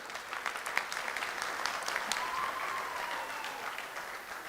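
Audience at an alumni convention claps steadily throughout, a dense, even wash of many hands in a large hall, moderately loud with no break.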